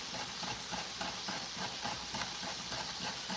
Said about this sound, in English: I'm thinly slicing a stalk of celery.